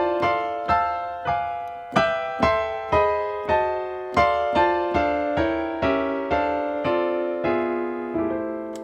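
A piano plays a sequence of jazz drop 2 chords, each voicing struck cleanly and left to ring, about a dozen chords in a steady, moderate rhythm, close and clear with no talking.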